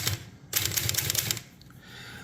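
Rapid bursts of keystrokes and typebar clacks from a Royal 10 manual typewriter, close and loud for about a second, then quieter mechanical rattling.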